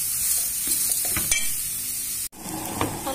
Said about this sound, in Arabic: هديهم تقليبتين كده مع بعضهم قبل ما اضيف الميه المغليه